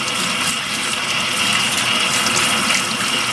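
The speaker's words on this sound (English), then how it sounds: "Water's kind of cold, so I'm going to turn it on just a little hot." Tap water runs steadily into a bathroom sink, a continuous close splashing hiss that stays even throughout with no voices over it.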